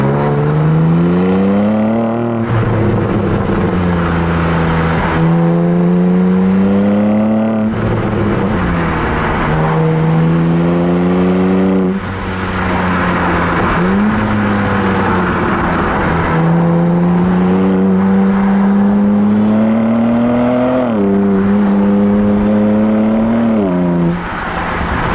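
A BMW G82 M4 Competition with its gearbox in manual mode, accelerating hard through repeated gear changes, the engine note climbing and dropping with each shift over about 25 seconds, loud and close inside the car, no talk.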